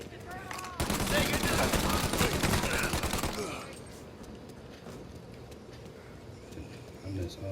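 Dense bursts of rapid gunfire in the Mafia video game, loud and continuous for a few seconds before fading into quieter ambient noise.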